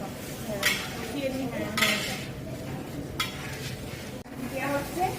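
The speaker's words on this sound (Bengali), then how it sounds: "কড়াই দিয়ে বাটা দিয়ে আমাদের এই মশলাটা কষিয়ে" Spices (ground cumin and turmeric) being stirred and fried in a kadai: a spoon scrapes the pan in about four separate strokes over a steady close sizzle, with a few light metallic clinks.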